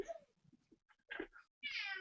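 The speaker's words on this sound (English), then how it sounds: "See, the cat says the same thing." Cat meowing in a quiet room, a few soft chirps and mews followed by a louder, drawn-out meow near the end.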